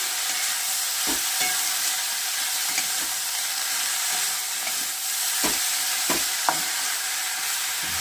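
Bottle gourd leaves fry in a pan while being stirred, producing a constant close hissing sizzle broken by occasional spatula knocks and scrapes, with no voices.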